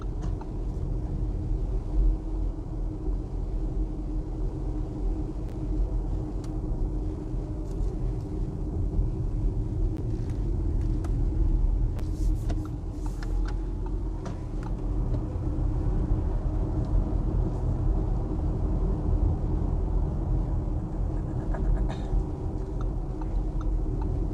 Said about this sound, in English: This car sounds like a tram when it's driving around.